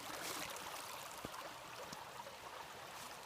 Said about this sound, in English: this is a significant amount of water flow.